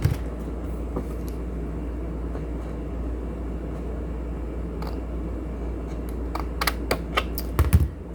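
Scissors snip through craft or scrapbook paper being cut into a small envelope: a steady low hum throughout, then a quick run of sharp, close clicks and snips bunched near the end.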